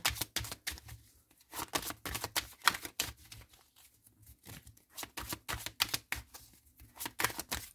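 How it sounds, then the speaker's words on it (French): Tarot cards being shuffled by hand, a rapid run of crisp riffling and slapping bursts in irregular clusters, close and fairly quiet, with no voice present. "je préfère bien mélanger."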